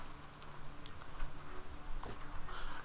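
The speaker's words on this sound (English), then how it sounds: "Don't mind the rain outside." Steady rain falling outdoors, heard from inside as a soft continuous patter with a faint brief rumble near the end, no talking over it.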